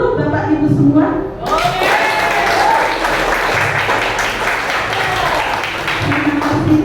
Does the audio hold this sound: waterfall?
no